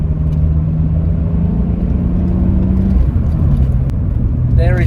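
A 2002 MG ZS 180 with its 2.5-litre KV6 engine pulls strongly, a continuous droning engine note with tones that shift as it accelerates, heard from inside the car with talking over it.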